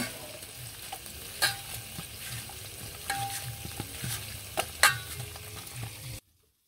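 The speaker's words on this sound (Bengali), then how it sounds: "একে একে সবগুলো মাছ ভেজে নিলাম" Fish fries in a pan with a steady moderate sizzle and occasional sharp spatula scrapes and taps, then the sound cuts off abruptly into silence.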